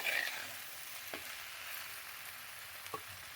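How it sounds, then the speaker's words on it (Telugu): Ginger, salt, chili, turmeric and coriander powder fry in a pan for a methi and lobiya curry, giving a faint, steady low sizzle with a few soft stirring clicks. "అల్లము, ఉప్పు, కారము, పసుపు, ధనియా పొడి అంతా వేసి ఒక 2 నిమిషాలు వేగనిచ్చి"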